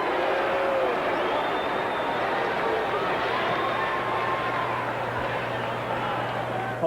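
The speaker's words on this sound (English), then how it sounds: "And the crowd here in Phoenix doesn't like that a bit." Stadium crowd at an American football game in Phoenix, Cardinals hosting Washington in 1988, reacting with displeasure to a penalty flag: a steady, distant roar of many voices sustained throughout, no distinct words.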